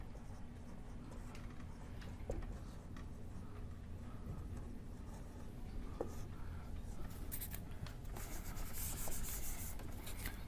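A pen scratches steadily across paper while a chemistry problem is written out, a faint, continuous rubbing with no speech over it.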